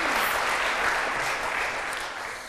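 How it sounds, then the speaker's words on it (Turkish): Brief burst of studio audience applause on a Turkish word game show, dense and loud at first, then fading slightly. "Alkış Ebru Hanım'a."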